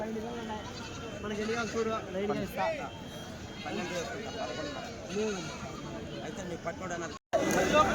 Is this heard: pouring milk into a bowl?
no